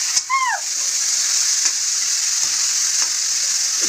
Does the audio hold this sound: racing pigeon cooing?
no